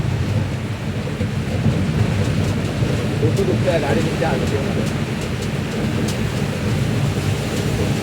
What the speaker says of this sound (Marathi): तुम्ही बघू शकतात पाऊस केवढा जोरात चाललेला आहे.